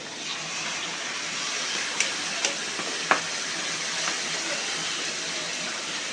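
Spices frying with capsicum in a pan, a continuous hissing sizzle with a few sharp clinks and scrapes of a utensil against the pan, close and steady throughout.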